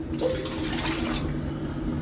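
Water poured from a glass into a pan of jaggery and flour for sweet pumpkin appalu, a brief steady splashing pour up close that settles into a softer trickle.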